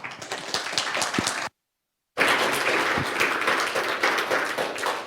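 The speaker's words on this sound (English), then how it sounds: "Let's give him a round of applause." Audience applause at the NixCon 2025 conference as a talk begins: a dense, crackling burst of clapping, briefly cut to silence midway, then resuming loud and steady to the end.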